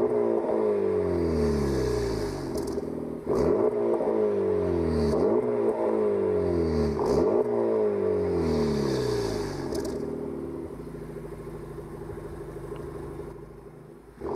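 A Honda Civic Type R FL5 engine in Gran Turismo 7 revs repeatedly through a series of rising sweeps, loud and continuous, then settles into a steadier drone for the last few seconds.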